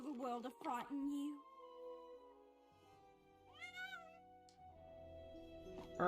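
A cat meows in the Champions of Norrath video game, with several clear, tonal, drawn-out meows over soft game music and ambience.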